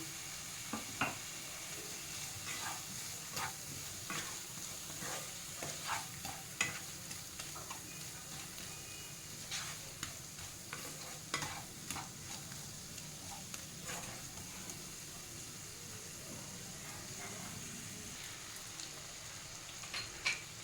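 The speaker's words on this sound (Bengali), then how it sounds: "যে আলুটা ভেজে রেখেছি সেই আলুটাকে দিয়ে মশলাগুলো ভেজে নেব।" Spices frying in oil with already-fried potatoes for a Bengali fish-roe curry, a steady broad sizzle running throughout with frequent small clicks and pops of stirring, moderately loud and close, no talk.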